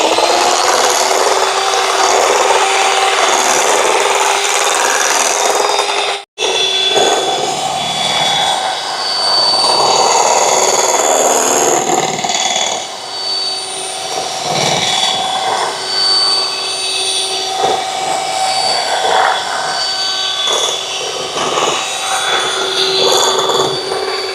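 An electric mixer beats coffee cake batter in a steady, loud whir that runs almost without break, with a brief cut-off early on and slight changes in pitch as the beaters move through the batter; no talking.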